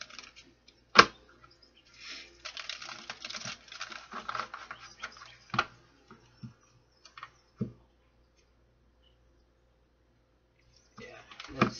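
Tarot cards being shuffled by hand in a quiet room, giving scattered soft riffling patters and a few sharp taps and clicks, close and fairly faint, with pauses of silence between bursts.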